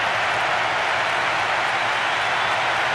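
Stadium crowd in the PES 6 football video game roaring after a goal, a steady dense wash of cheering and applause that stays loud and unbroken throughout, with no talk over it.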